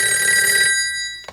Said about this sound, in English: I've got to sit here in my bed, suffering every time that phone rings